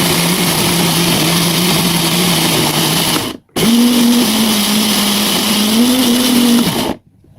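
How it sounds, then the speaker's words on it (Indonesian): Kitchen blender grinding chili, candlenut, turmeric and coriander into a spice paste, a loud steady motor roar in two long runs separated by a brief stop. "Lalu blender semuanya sampai benar-benar halus."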